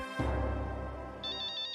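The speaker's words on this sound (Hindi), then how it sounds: "उनका ही फोन है।" A mobile phone ringtone sounds in a television drama scene, a brief melodic electronic tone with a warbling higher trill joining near the end, heard alone for under two seconds.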